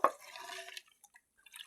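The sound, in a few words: mixing jaggery drink with water and basil seeds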